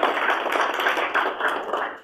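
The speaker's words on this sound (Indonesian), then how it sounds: "Ini tepuk tangannya harus lebih dahsyat." Church congregation applauding during a family sermon, a dense burst of many clapping hands sustained throughout, fairly close and loud.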